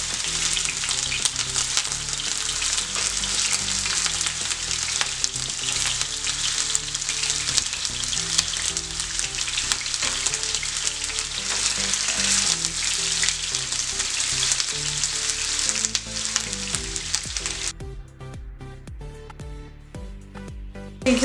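Meatballs fry in hot cooking oil with a loud, steady, dense sizzle that runs unbroken for most of the stretch before thinning out near the end.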